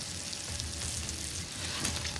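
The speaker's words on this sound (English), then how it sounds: "Now is the time we want to add our diced jalapeno to the bacon and sausage mix" Diced jalapeño sizzles in a hot pan with bacon and sausage, a steady dense crackle of frying fat heard up close with no voices.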